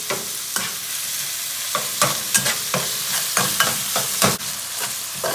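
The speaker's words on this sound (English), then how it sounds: "As you're cooking it, just break it up while it's in the pan." Ground turkey sizzles and fries in a hot pan while a utensil repeatedly scrapes and breaks it up, giving irregular sharp stirring clicks over a steady frying hiss, close and loud with no talking.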